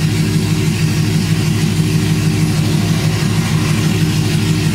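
A car engine cruises at low RPM, just under 1,000, giving a steady deep hum and drone that holds at an even loudness throughout.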